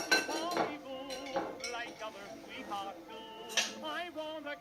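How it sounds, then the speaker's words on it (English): Fork tines clinking and scraping against a metal potato masher over a saucepan of mashed root vegetables, a run of bright, close metallic taps and scrapes. "we can start scraping it away from the masher itself"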